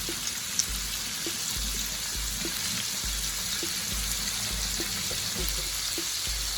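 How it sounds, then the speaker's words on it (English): A hand being rinsed under a running kitchen tap, a steady broadband hiss of flowing water with faint intermittent clicks and low thumps, close and continuous, no talk. "And just rinse my hand off."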